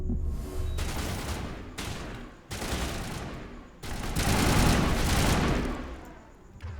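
Squad assault rifle fire in the video game Mass Effect, upgraded rifles rattling in loud sustained bursts separated by brief gaps, close and dense, with no talking.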